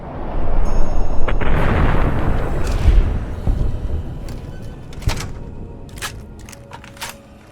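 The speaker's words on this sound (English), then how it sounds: "I snuck up behind another bandit and hit him with a shotgun blast from behind." A shotgun blast in Fallout New Vegas: a loud booming burst that rumbles and decays over a few seconds, followed by scattered sharp cracks and clatter.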